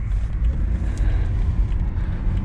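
A 2008 BMW 328xi Sport Package on the move, with a steady low engine drone and road rumble heard from inside the cabin, constant and fairly loud with no talk.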